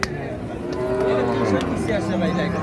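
Sahiwal cattle at a livestock market give a loud, sustained moo that holds steady for a couple of seconds, close by, with faint crowd noise behind.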